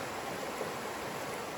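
River rapids along the Appalachian Trail, a faint, steady broadband rush of flowing water with no other sounds.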